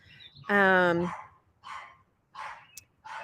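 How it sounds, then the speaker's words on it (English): A dog gives one long, harmonic howling bark followed by a few shorter, softer barks with gaps between them, fairly close in a quiet room. "are you talking about the barking dogs?"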